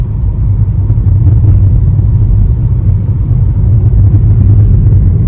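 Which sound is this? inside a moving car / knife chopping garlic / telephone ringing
inside a moving car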